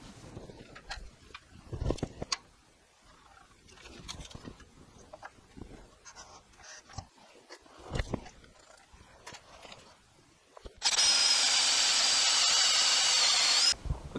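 A handheld power drill bores a pivot hole in wood for a Morris chair back, whirring steadily for about three seconds, loud and close, after a stretch of scattered knocks and handling noises.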